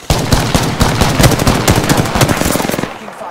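Rapid automatic gunfire in Apex Legends, a loud, close burst of many rounds in quick succession that continues for about three seconds before stopping abruptly.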